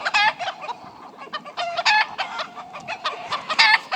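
Andalusian chickens cluck and squawk in a busy, overlapping flock, close and loud, with repeated sharp calls over a low rumble of background noise.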